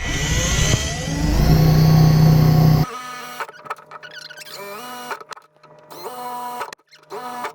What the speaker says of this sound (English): Now at this moment we're using a 3/16 inch drill bit